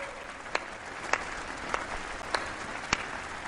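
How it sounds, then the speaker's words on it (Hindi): Scattered applause from the audience at India's Independence Day address at the Red Fort, honouring the country's athletes; sparse, distinct claps ring out at a slow rhythm over a broad outdoor crowd wash. "आइए कुछ पल तालियां बजा करके उनका सम्मान करें"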